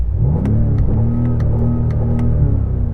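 A BMW M5 engine holds a steady, droning rev at moderate pitch, loud and close, with faint clicks over the sustained rumble and no talking.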